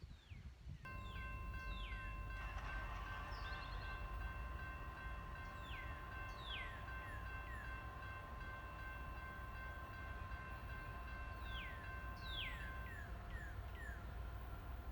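A northbound freight train, Q652, on the Clinchfield line rumbles steadily while high squealing tones sweep downward again and again, likely wheel or flange squeal, over a constant low drone heard at moderate distance.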